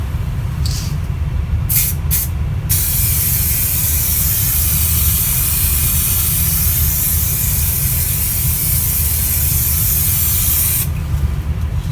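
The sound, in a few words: spraying SprayMax 2K polyurethane coat on carbon fiber tailgate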